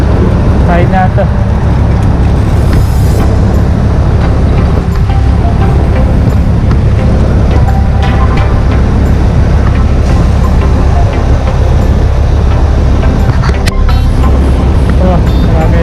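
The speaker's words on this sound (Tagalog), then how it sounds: "Oh, grabe traffic." Stuck in a traffic jam on the NLEX highway near Arayat, Pampanga, with trucks around: a loud, constant roadway rumble and engine drone fills the whole stretch, no clear single vehicle standing out.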